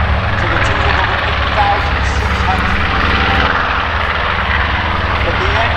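Loud piston-engine bombers, B-25 Mitchells at the Thunder Over Michigan airshow at Willow Run Airport, drone overhead in a continuous, steady roar that fills the whole stretch.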